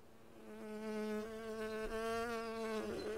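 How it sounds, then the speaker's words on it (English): A cartoon bee buzzes in a quiet countryside scene, a steady, fairly faint drone with a rising and wavering pitch that lasts about three seconds, heard alone. "Hello, Buzzy Bee"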